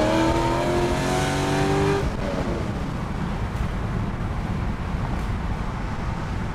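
A 2006 Chevrolet Corvette V8 engine revs hard and accelerates loudly, its rising tone climbing for two seconds before settling into a steady roar.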